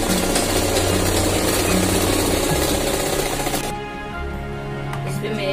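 A sewing machine stitching fabric for a palazzo, running as a loud, steady mechanical whir and buzz up close that eases slightly toward the end.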